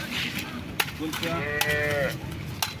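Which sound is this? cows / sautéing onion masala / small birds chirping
cows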